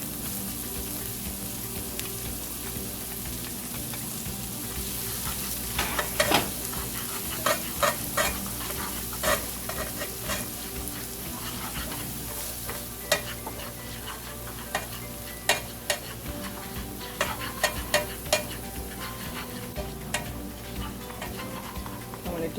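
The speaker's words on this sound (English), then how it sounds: "We're going to sweat our onions and our pepper" Onions, peppers and garlic sweat gently in a pan for Jamaican jerk pasta, a steady close sizzle with repeated sharp clicks and scrapes of a utensil stirring against the pan, no voices.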